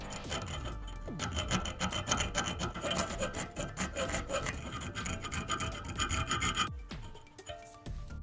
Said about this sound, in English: I actually want to grab my file and shave down those little burrs. I'm using a round file